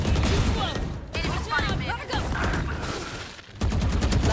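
Rapid bursts of gunfire in the video game Valorant crackle loudly and almost continuously, with an excited voice talking over the shooting.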